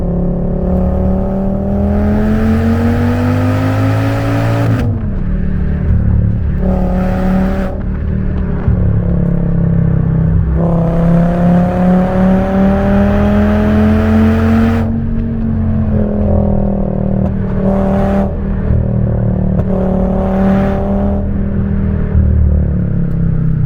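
A 2010 Audi S6 with all-wheel drive is driven hard through corners, its engine droning steadily and rising and falling in pitch as it revs up and eases off between bends, heard from inside without any talk.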